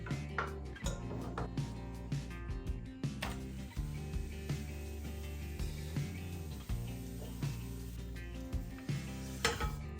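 Pancakes sizzle in a hot pan while a utensil repeatedly scrapes and taps against it, with music playing underneath.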